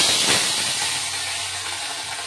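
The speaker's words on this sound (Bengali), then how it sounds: "তেল গরম হয়ে গেছে, তো দিয়ে দেবো ইলিশ মাছটা।" A hilsa fish slid into hot oil for mustard hilsa, giving a loud, steady, close sizzling hiss that holds for a couple of seconds without speech.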